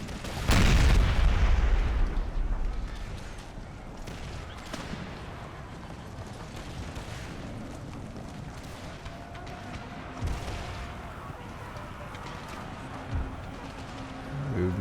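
Cannon artillery in Empire Total War booms loudly at the start, followed by a rumbling battlefield din with scattered distant thuds and later reports; no talking.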